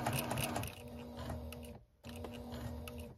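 A sewing machine stitching up to the corner of a baby quilt, a fast rhythmic mechanical whir close by, stopping briefly for a moment before starting again.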